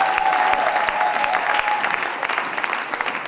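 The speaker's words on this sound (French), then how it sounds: "Si Jésus est Seigneur, nous acclamons très fort." A church congregation applauds loudly and continuously, a dense close wash of clapping from many hands with steady energy throughout and no talking over it.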